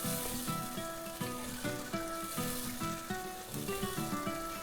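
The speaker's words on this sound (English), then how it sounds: "Now I'm going to add all the dry spices. And let that simmer for about a minute or two." Dry spices simmering in hot oil in a pan for an aubergine and potato curry, a steady soft sizzle and crackle that is faint and continuous, with background music playing over it.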